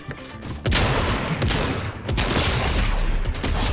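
Rapid gunfire in Fortnite Arena played on controller, a dense, loud barrage of shots and booms filling the whole stretch with no voice over it.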